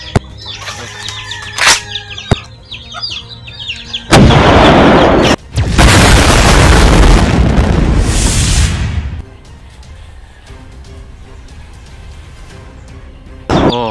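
Newly bought guns being test-fired outdoors: a couple of sharp cracks early, then loud sustained bursts of booming gunfire with a brief gap between them, fading into quieter background noise with a faint bird or rooster present.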